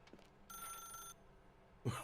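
An old-style telephone bell rings in The Stanley Parable video game, a bright metallic trill lasting about half a second, then silence before a louder thump at the end.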